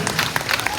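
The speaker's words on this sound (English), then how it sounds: "giant round of applause for all of them." A brief burst of crowd applause at a colt starting competition awards ceremony, dense clapping at steady volume with faint voices underneath.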